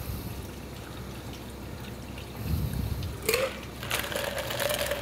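Liquid for a Basil Grande cocktail poured from a cocktail tin into a glass after the ice and soda are dumped, a short trickling pour rising partway through over steady background hum.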